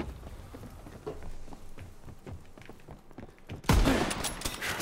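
Rifle fire in Call of Duty: WWII gun game: a loud sharp report bursts out near the end after a stretch of quieter, scattered in-game clatter and faint distant shots.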